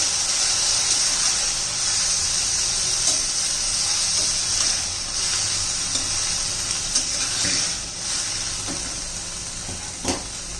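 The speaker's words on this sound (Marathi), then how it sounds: "आणि मग कोबी घालून घेऊ. व्यवस्थित मिक्स करून घ्यायचंय." Shredded cabbage with salt being stirred in a hot pan for a dal-cabbage dish sizzles in a continuous bright hiss, with scattered scraping clicks from the stirring.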